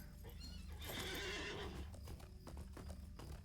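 A horse in the LOTRO video game whinnies loudly near the start, then its hooves clop in an uneven trotting rhythm over low game ambience.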